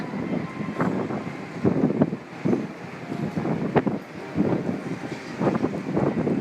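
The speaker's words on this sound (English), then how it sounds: "They know that there's intense wind here." Strong gusting wind buffets the microphone in an open park in Tachikawa, Japan, a continuous low rumble swelling and easing in repeated surges for several seconds with no voices.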